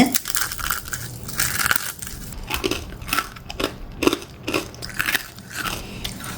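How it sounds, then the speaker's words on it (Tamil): Crispy coconut milk murukku crunches loudly up close, a series of separate sharp bites and cracks spaced roughly every second, with chewing between them. "நான் நொறுக்கி நொறுக்கி காட்டுறேன் எப்படி இருக்குன்னு பாருங்கள் சத்தம் கேட்குதுன்னு"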